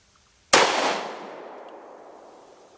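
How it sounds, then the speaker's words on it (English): A single loud gunshot from a Smith & Wesson M&P 2.0 10mm pistol fired outdoors, a sudden sharp crack followed by a long rumbling echo that slowly fades, with no talking. "Let's try shooting it one more time."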